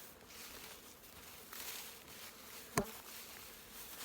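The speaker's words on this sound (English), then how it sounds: "The bees are in the supplement feeder." A soft, steady insect hum of honeybees at a supplement feeder fills the air outdoors on a cool afternoon around 8 degrees, with a brief sharp click partway through.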